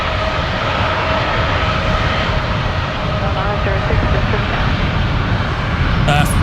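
A Metro turboprop accelerates down a taxiway toward the parallel runway at Brisbane Airport at night, a loud constant engine drone with a propeller hum, while people talk over it.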